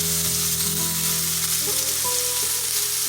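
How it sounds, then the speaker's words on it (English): Ground beef sizzles steadily in a hot pan beside onions, a loud continuous frying hiss with faint stirring and no talk over it. "now I'm going to add in our ground beef"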